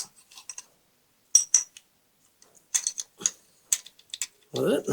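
A ratchet tightens the bolts of a Harley-Davidson Evo cam cover, giving short bursts of crisp, close clicking separated by pauses, with a brief voice near the end.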